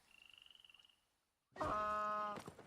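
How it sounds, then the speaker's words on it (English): A donkey brays in the video game Albion Online: a loud, harmonic, wheezing bray bursts in and holds for over a second, alone, after a faint, rapid, pulsing chirp. "The donkey sounds so silly."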